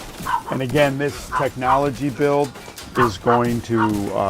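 Real dogs bark in the background, partly buried under someone talking steadily over them.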